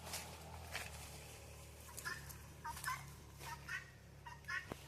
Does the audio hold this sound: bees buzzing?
no